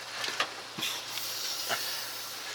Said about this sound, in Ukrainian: Не, вакуум міняється, якщо він вже шипить.